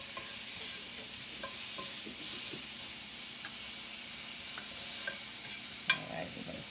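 Ingredients sizzle in a pan with a steady hiss while a utensil stirs and taps against it in scattered light clicks, ending with one sharper knock near the end.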